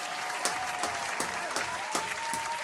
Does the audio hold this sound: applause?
yes